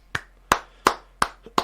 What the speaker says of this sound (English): We'll give you a few claps for that